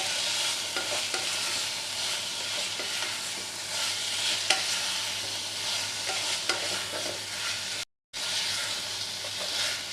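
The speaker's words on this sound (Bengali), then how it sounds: "এই মশলার সঙ্গে ভালো করে কষাবো।" Chicken slices sautéing with spices in a kadai for Kolkata dhaba-style chicken bharta: steady close sizzling and frying hiss with faint stirring scrapes, continuous throughout apart from a brief dropout near the end.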